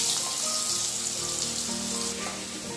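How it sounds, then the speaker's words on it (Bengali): Vegetables fry in a wok with a dense, steady sizzle and crackle, close and fairly loud, with faint stirring and no voices. "চলো আগে সবজিগুলো ভাজি।"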